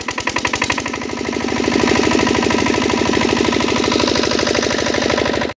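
A farm engine, freshly started, thumps in a loud, steady rapid rhythm of close, even pulses that carry on without a break.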